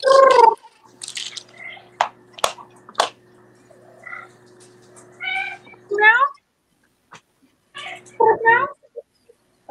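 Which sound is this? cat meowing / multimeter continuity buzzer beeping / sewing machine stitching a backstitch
cat meowing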